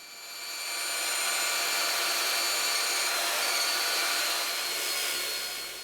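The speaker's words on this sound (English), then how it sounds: "then just cutting it out with the bandsaw again" Bandsaw cutting a leftover scrap of pine for a guitar stand, a steady loud whining buzz that swells in over the first second, holds evenly and fades slightly near the end, with no talk.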